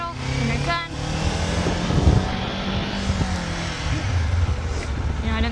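Motorcycle riding on the road with a steady engine drone and wind rush throughout, a rider's voice speaking faintly over the engine.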